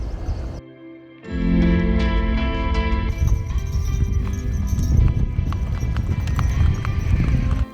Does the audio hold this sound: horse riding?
yes